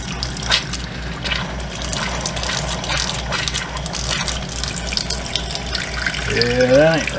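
Water gushes and splashes steadily from an overflowing fresh water tank, a continuous close-up rush with a rising whistle-like tone near the end and a few faint voices behind it.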